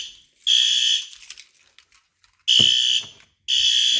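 A fire alarm system sounds during a test, three loud, piercing electronic blasts of roughly one second each with short gaps, plus faint clicks and handling noise between them.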